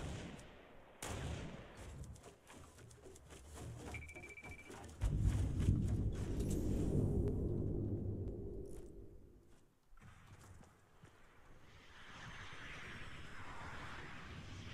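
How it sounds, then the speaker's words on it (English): Gunshots ring out in the Fortnite battle royale game, a sharp crack followed by scattered reports against a rumbling, aircraft-like background drone that swells in the middle before easing off. "Where in the world did that shot just come from?"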